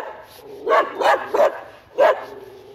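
A dog barks four times in short, fairly loud bursts, the first three close together and the last after a pause, over a quiet background with no talking.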